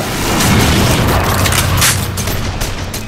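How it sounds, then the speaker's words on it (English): Repeated light grenade blasts in The Darkness II game boom with dense, rumbling roars over continuous low-frequency battle noise, loud and sustained across the moment without any talk. "at this point they start throwing light grenades down as well"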